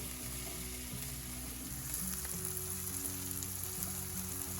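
Sautéed mushrooms and butter are stirred into a rice mixture in a hot pan, giving a steady close sizzle with soft scraping and shuffling throughout.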